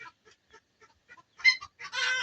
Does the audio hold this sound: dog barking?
no